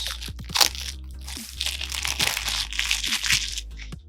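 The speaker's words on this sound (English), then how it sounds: "Very crunchy plastic." A Magic: The Gathering Bloomburrow card pack wrapper of crunchy plastic being torn open, with close, loud crinkling and crackling in bursts and sharp pops throughout.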